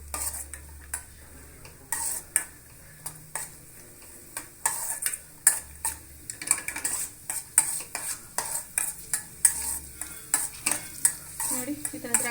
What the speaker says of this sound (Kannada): ಇದು ಹೊಂಬಣ್ಣ ಬರೋವರೆಗೂ ಸ್ವಲ್ಪ ಹುರ್ಕೊಂಡ್ರೆ ಆಯಿತು